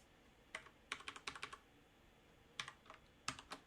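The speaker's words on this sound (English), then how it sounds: "And I'll type really fast." Fast typing on a computer keyboard, close and crisp, comes in short bursts of clacking keystrokes separated by brief pauses.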